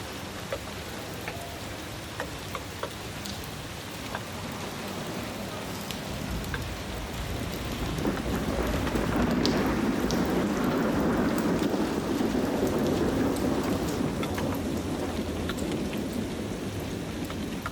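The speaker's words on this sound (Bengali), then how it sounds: "খুব সুন্দর লাগে, বৃষ্টি হচ্ছে চারিদিকটা দেখতে" Evening rain falling around a residential building, heard from a rooftop: a steady wash of rainfall that grows louder and denser partway through, with scattered drip ticks and no talk.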